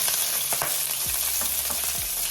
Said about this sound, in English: it's time to cook up our scallions first